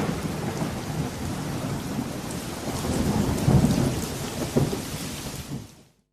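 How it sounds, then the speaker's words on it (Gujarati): Heavy downpour in Ahmedabad, a dense continuous roar of rain on surfaces with low rumbling thunder swelling midway, loud and close, with no talk, ending in abrupt silence. "અમદાવાદ શહેરમાં અનરાધાર વરસાદ વરસી રહ્યો છે"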